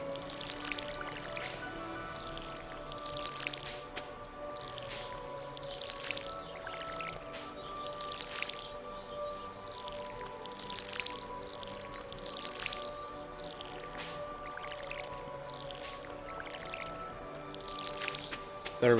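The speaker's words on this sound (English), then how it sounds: "Let's water our crops." A watering can pours over crops in a farming video game, producing repeated soft, squishy splashing bursts in a steady rhythm over a quiet tonal background.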